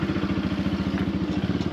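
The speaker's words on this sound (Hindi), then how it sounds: "देखिए अब कैसे मेरा फ्रेंड जो है निकाल रहा है, चलिए अब निकल गई है बाइक" A motorcycle is ridden out along a hill road near Dharamshala, its engine close and loud with a fast, steady pulsing thump throughout.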